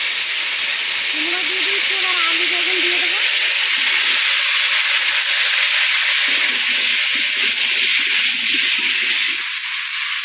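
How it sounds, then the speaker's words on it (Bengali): Vegetables fry in hot oil in a wok over a stove, a steady loud hiss and sizzle that runs unbroken the whole time. "এবার সবজিগুলো সব ভেজে নেব কড়াইতে তেল দিয়ে দেবো"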